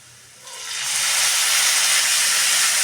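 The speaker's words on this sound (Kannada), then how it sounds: "ಹುಳಿ ಬಿಟ್ಟು ಚೆನ್ನಾಗಿ ನಾವು ಫ್ರೈ ಮಾಡ್ತೀವಿ" Tamarind mixture with jaggery and asafoetida frying in a hot pan, a loud, steady broadband sizzle that swells up within the first second and then holds strong and even to the end, with no talk over it.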